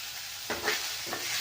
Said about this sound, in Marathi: आता हे सगळं परतून आपल्याला